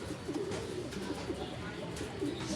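Pigeons coo repeatedly in low, throaty bursts over steady background noise, several birds overlapping close by in a third-floor pigeon loft.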